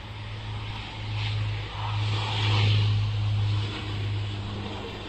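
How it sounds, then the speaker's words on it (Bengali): A small Biman Bangladesh Airlines plane takes off from Hazrat Shahjalal International Airport bound for Chittagong: a loud, steady engine roar with a deep droning hum that swells and fades slightly, with no voices. "তার আগে বিমান বাংলাদেশ এয়ারলাইন্সের এই ছোট্ট বিমানটি চট্টগ্রামের উদ্দেশ্যে উড়ে যাবে"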